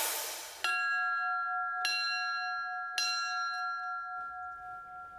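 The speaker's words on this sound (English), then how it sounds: "Bells ringing inside a Loudoun County church" Church bells ring inside a Loudoun County church during a memorial gathering, with three loud, close strikes about a second apart, each leaving a long sustained hum that decays slowly.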